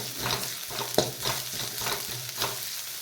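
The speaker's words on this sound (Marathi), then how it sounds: "एक मिनिटभर याला परतून घ्यायचं आहे" Onion sautéed with garlic and coconut in a pan for a cowpea curry: a steady close sizzle with rhythmic spatula stirring and scraping, one sharper clack near the middle.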